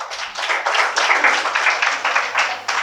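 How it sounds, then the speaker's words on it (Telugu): Audience applause at a college memorial assembly in Khammam after a book review, steady dense clapping that fills the whole stretch at full strength, no voices over it. "అందరూ కూడా చప్పట్లు కొట్టి అభినందించారు"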